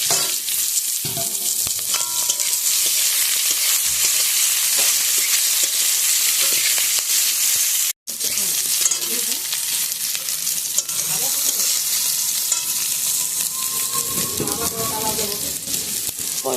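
Hog plums (amra) sizzle loudly in hot oil in a pan while being stirred, a steady dense crackle with scraping strokes throughout, broken by one brief silent gap midway, for a sour fish curry.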